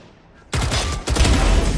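Gunfire in a battle royale video game, with rapid loud bursts of shots starting abruptly and continuing in dense volleys, close and sharp.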